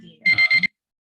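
A timer alarm goes off near and loud, giving a short run of rapid electronic beeps that stops abruptly and leaves silence.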